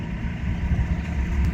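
Tour boat diesel engines idle at about 800 RPM with a low, steady rumble and a soft throb, heard close with outdoor background noise.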